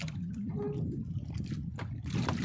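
Water sloshing and churning around a boat, with waves slapping the hull and gusty wind noise throughout; the sound stays loud and steady.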